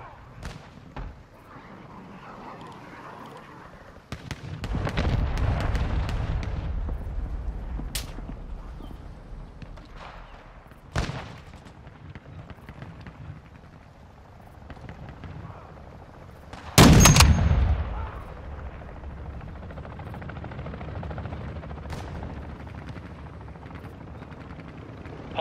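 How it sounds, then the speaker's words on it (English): Cruise missile strikes in Call of Duty: Modern Warfare II, with booming explosions, a long rumbling blast early and a sharp, loud detonation later, amid distant gunfire and battlefield rumble. "Friendly cruise missile deployed."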